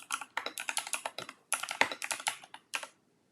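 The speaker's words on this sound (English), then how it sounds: "type in what I want." Close, crisp keystrokes on a computer keyboard come in quick rhythmic bursts with short pauses between them, and the typing stops near the end.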